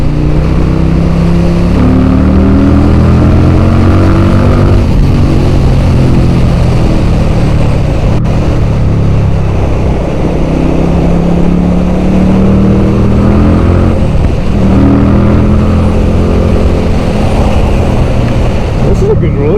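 A V-twin motorcycle engine drones loudly and continuously while riding, its pitch rising and falling as it revs through the gears, with wind noise throughout.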